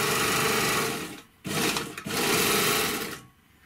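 An overlock sewing machine running on thick denim gives a fast, loud mechanical whirring clatter close to the listener. It runs in two bursts separated by a brief stop, then winds down.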